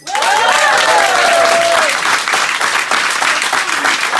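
Loud audience applause greeting a guest onstage at a comedy show, dense clapping with cheers and whistles rising at the start, then continuing steadily.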